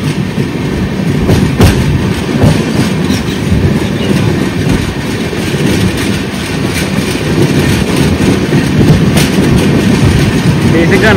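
A Charlapalli–Naharlagun special passenger train rolls past close by, a loud, steady roar of wheels and coaches with clickety-clack beats that lasts the whole stretch without a break.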